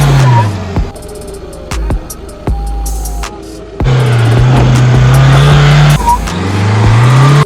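A Mahindra Thar 2020 pushing off-road after a differential change revs hard in repeated loud bursts, engine pitch climbing and dropping with gear changes, with clattering knocks and gaps where the throttle is released.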